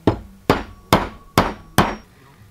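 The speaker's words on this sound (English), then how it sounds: "I can pound it in with a hammer, but I can't push it in with my hands." Five sharp hammer blows strike at an even, steady rhythm, each ringing briefly, as a tube is pounded into a bearing while building a handmade fishing reel; close and loud, with no talking.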